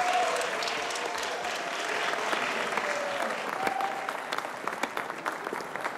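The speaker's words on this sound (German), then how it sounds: "Einen großen Applaus für unser erstes Tanzpaar." Audience applause for the first couple at a dance contest, a dense, steady wash of clapping from a crowd that swells and then thins over several seconds, with no one speaking.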